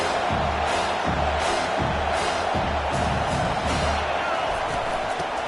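Dense roar of a college football stadium crowd, a steady loud wall of cheering and noise with rhythmic swells, heard alone.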